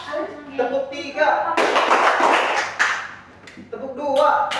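Students in a micro-teaching class clap together in a set pattern: a long burst of many hands in the middle, then a shorter one, with a teacher's voice speaking before and after.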